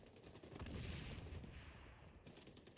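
Sustained gunfire in the online shooter XDefiant, dense overlapping bursts of shots rolling continuously at moderate loudness for the whole stretch, with no talk.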